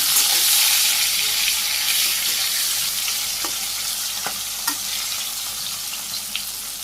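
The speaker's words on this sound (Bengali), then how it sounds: "তেল গরম হয়ে গেছে, মাছগুলো দিয়ে দিই।" Pieces of fish marinated with turmeric, chili and salt sizzle loudly in hot oil, a steady close hiss with a few sharp pops and spatters.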